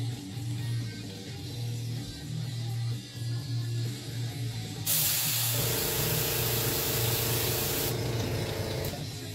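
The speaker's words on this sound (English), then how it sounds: "And just spray it right, I mean, dead center at the top." An airbrush sprays paint onto rivets in a steady hissing stream, with a low hum running underneath and a louder, brighter burst of spray partway through.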